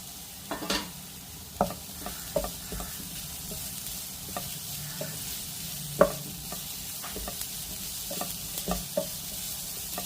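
Fried elephant yam pieces are stirred into a pan of sautéed ingredients for a festival vegetable offering. A spatula scrapes and knocks softly in scattered strokes over a faint, steady sizzle, with one sharper clack midway.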